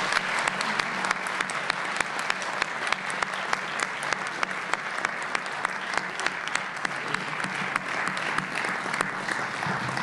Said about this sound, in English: give all of the class of 2013 diploma candidates, excuse me, diploma recipients and certificate recipients a loud round of applause